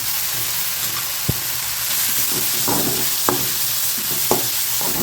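Capsicum sautés in a hot pan with chili powder as it is made into an egg poriyal, a steady loud sizzle with a handful of sharp spatula taps and scrapes spaced out, close and without speech.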